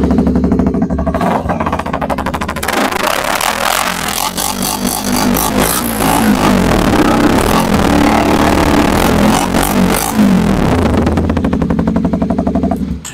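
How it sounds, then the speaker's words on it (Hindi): A loud Kawasaki Ninja 250 motorcycle with an aftermarket exhaust revs aggressively with rapid crackling bursts from the exhaust, rising and falling throughout, no voices. "बहुत ही लाउड और एग्रेसिव साउंड है गाइस इस बाइक के ऊपर, क्योंकि आफ्टर मार्केट एग्जॉस्ट लगा हुआ है"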